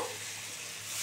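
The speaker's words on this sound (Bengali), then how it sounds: "এই যে এবার জল দেব" Water poured into a hot pan of egg poach bati chorchori, sending up a loud, close, continuous sizzling hiss that lasts the whole moment.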